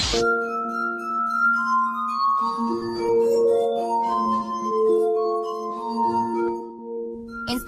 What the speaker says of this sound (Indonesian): Instrumen musik lainnya adalah gelas harmonika atau harmonika kaca